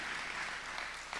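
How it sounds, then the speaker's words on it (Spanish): A church congregation claps for Jesus during a service, a brief burst of dense, even applause from many hands, heard alone without speech. "Démosle fuerte ese aplauso a Jesús."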